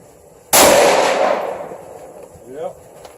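A single loud, close shot from an Armalite .338 Lapua Magnum rifle, a sharp crack with a long rolling echo fading over a few seconds, fired outdoors on a range, with faint voices afterward.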